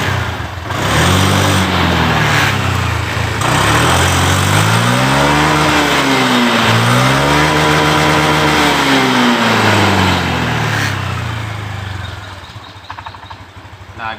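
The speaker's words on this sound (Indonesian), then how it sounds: "tidak ada lagi berebet di awal gas pada saat mesin dingin" A 2020 Honda Beat scooter engine idles, then is revved repeatedly in rising and falling sweeps before settling back to a rough idle, loud and close with no talk.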